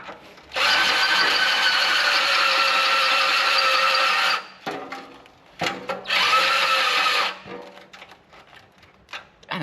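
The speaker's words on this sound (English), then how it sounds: "And the drill just died, of course." Power drill whirring in two long steady bursts while working on a salvage Toyota GT86, loud and close, separated by brief clicks and handling noises, then stopping with scattered clatter afterward.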